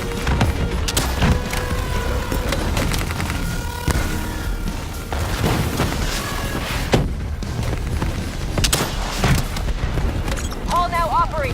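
Explosions and booming blasts from the video game Call of Duty: Black Ops III roll under dense battle noise, with voices talking over the action.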